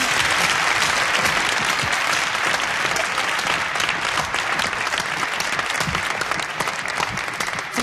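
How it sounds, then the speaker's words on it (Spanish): Sustained, loud applause from a studio audience on a 1989 Spanish television show, greeting a famous footballer as he comes on; dense, steady clapping that fills the whole stretch with no talk over it. "Vamos a darle el fuerte aplauso a Emilio Butragueño."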